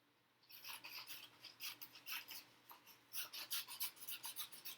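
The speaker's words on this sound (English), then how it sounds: "you're going to take some scissors and start carefully cutting your strips" Scissors cut strips of painted paper in a series of quick, close, quiet snips in an uneven rhythm after a brief near-silent start.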